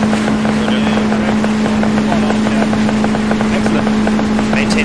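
A boat's engine runs steadily while under way, a constant droning hum with wind buffeting the microphone throughout.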